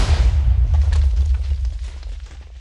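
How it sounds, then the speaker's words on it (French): A TNT cannon in the Minecraft video game goes off with a loud, close booming explosion. A deep rumble follows and slowly fades. "Et voilà, donc là ce sera vraiment un big monster canon à TNT. Et la TNT va partir assez loin."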